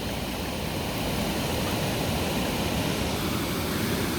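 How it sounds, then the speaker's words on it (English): Steady broadband rush of a waterfall pouring over an edge into a creek, constant and full with no breaks, close and enveloping. "I want you to notice the rushing sound of the waters as they careen off the edge"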